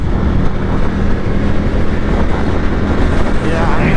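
A 2022 Indian FTR Carbon motorcycle at speed, heard as a loud, steady roar of engine and rushing wind buffeting the microphone, continuous throughout with no talking.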